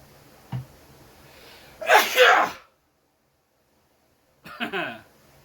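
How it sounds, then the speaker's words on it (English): A single sharp sneeze erupts after a short inhaling gasp, loud and close, followed by a silent pause and then a brief burst of someone talking. "I think I'm about to sneeze."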